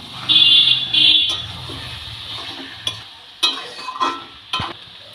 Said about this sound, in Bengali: আর চিনিটাকে দিয়ে বাঁধাকপিটা ভালো করে নেড়ে নেব।